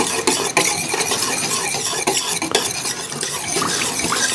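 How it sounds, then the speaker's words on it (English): Hot cocoa moonshine being stirred in a pot, a spoon scraping and clinking steadily against the metal for several seconds, close and fairly loud with a busy, continuous texture. "give that a good stir"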